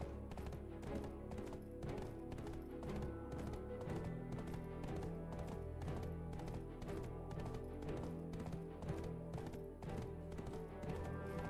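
Horse hooves clip-clop in the online game Black Desert, a steady fast rhythm of hoofbeats repeating throughout over low background game music, with no talking.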